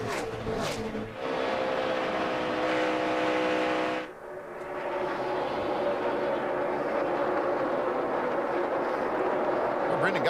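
NASCAR race cars at the 2012 Sam's Town 300 race, a loud continuous engine roar with a brief dip around four seconds, then steady droning engines under trackside commentary.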